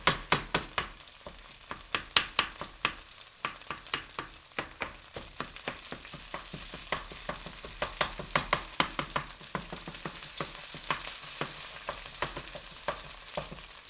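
Hash browns frying in a pan while a utensil repeatedly stirs and pounds them, giving a steady sizzle under a rapid series of sharp, close scraping knocks.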